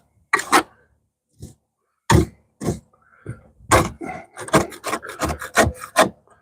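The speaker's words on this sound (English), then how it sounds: "me scrape a little bit of this out and see real quick" A scraper gouges material from a boat in short, harsh rasping strokes, sparse at first then quickening into a steady run of close, gritty scrapes.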